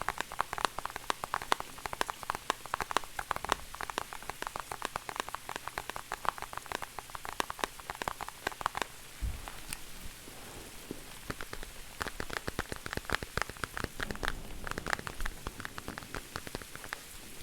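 Dense, irregular pattering and crackling taps sound much like rain striking a surface, steady and close throughout with no pauses or voices, made as an ASMR tapping and scratching effect during a long drive.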